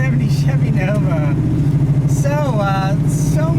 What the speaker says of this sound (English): you just have a basic key here, slip it into the ignition, and it roars to life